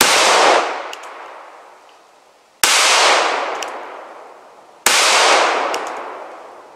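Three loud gunshots from an M&P Shield pistol firing hollowpoint rounds, spaced about two seconds apart, each sharp crack followed by a long fading ring, with faint metallic pings from a steel target.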